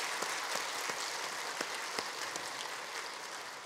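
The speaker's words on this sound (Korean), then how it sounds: "우리가 격려하는 입장에서 박수로 다시 한번 힘을 주시기 바랍니다" A church congregation at a Wednesday worship service applauds to encourage students. The clapping is a soft, even, rain-like patter of many hands, with a few sharper claps standing out and no voices.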